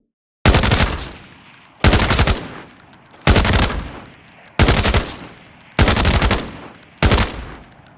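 Six evenly spaced, loud single shots from the T03 rifle in the shooter game Arena Breakout Infinite, each a sharp crack with a short decaying tail, separated by pauses of just over a second.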